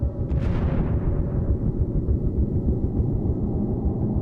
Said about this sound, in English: Two and a half hours later, a small explosion from below.